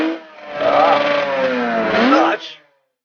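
Cartoon-like motorcycle engine revving up as it speeds off, a rising, buzzing whine with harmonic sweeps that climbs, holds, then cuts off, loud and close; it may be a voice imitating the engine.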